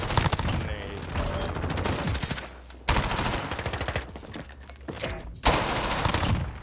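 Rapid bursts of MP5 submachine gun fire in Modern Warfare, loud and repeated with brief pauses between volleys.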